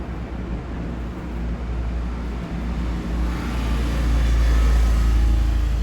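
A bus rolling along a road at night on the route from Palani to Karaikudi, its broad engine and road roar building steadily and growing louder toward the end, continuous, with no voices.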